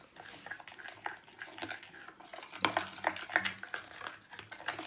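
Slime mixture with a little added salt being stirred, a soft sticky squelching and scraping that runs steadily and fairly quietly, close by, with a few sharper clicks partway through and no talking.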